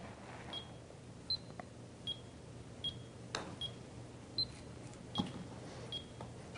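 An Eyeline Golf Metronome Pro gives short, high electronic beeps at an even pace, about one every second, clear and near in a quiet room with faint background hiss and no talking.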